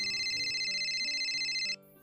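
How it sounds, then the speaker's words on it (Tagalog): A mobile phone ringtone sounds for an incoming call, a loud, steady electronic melody with repeating tones that rings continuously for nearly two seconds and then cuts off abruptly. "Si Karen tumatawag."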